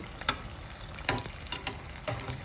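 Cheese samosas sizzle steadily in hot oil, with a continuous frying hiss broken by a few sharper pops and bubbling bursts, close and moderately quiet.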